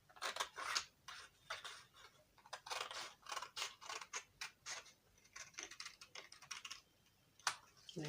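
Scissors snip through a paper corset bustier pattern piece, a steady run of crisp, close cuts in quick uneven bursts with short pauses, no talking.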